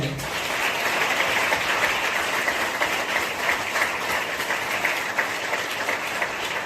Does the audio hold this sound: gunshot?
no